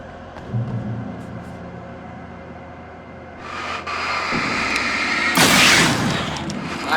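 Fireworks in Alan Wake Remastered boom and crackle, starting as low rumbling bursts and swelling into a loud, bright crackling explosion near the end, over a steady background drone.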